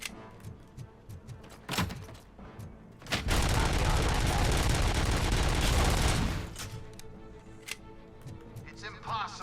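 Gunfire from a shaky gun in RoboCop Rogue City, scattered single shots followed by a loud sustained burst of automatic fire lasting about three seconds, then sparser shots, with talk around it.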